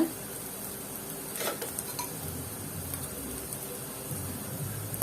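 Paneer rice with turmeric frying in a pan for a toddler meal: a quiet, steady sizzle with occasional soft stirring scrapes and clinks, no voices.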